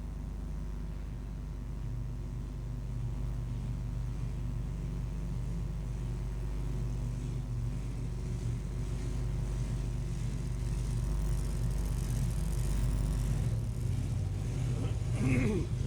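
Drag racing cars at the ANDRA Summit Sportsman Series in Portland, a deep, continuous engine rumble idling at the track that grows slightly louder toward the end, with a faint commentator voice underneath.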